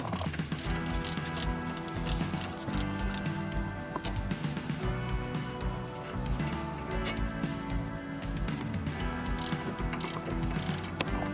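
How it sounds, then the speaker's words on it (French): A ratchet fitted with a Torx T55 socket loosens the brake caliper bracket bolts on a Peugeot 308, making continuous close mechanical clicking and grinding, loud and unbroken, with no talk. "À l'aide du cliquet et de la douille Torx T55, dévissez les deux vis du support d'étrier."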